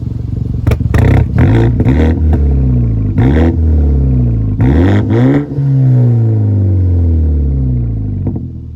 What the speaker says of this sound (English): I'm gonna do a few revs for you so you can kind of get an idea of